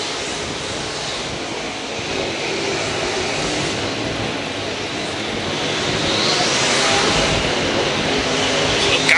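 A-Mod race cars lap Canyon Speedway Park during Desert Classic qualifying; a dense, continuous engine roar swells slightly louder toward the end, with a crowd-and-track wash underneath.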